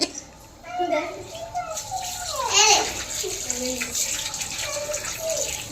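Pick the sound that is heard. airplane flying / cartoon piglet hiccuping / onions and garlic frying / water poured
water poured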